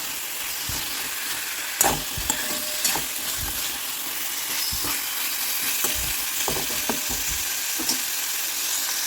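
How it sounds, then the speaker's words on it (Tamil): Masala fries in oil in a kadai, a steady sizzling hiss broken by frequent scraping and clacking from stirring, close and continuous with no speech. "நல்லா பரட்டி விட்டு கொஞ்சம் நல்லா சுருளை வர வரைக்கும் நம்ம நல்லா ஃப்ரையாக வரைக்கும் பரட்டி வச்சுக்கலாம்."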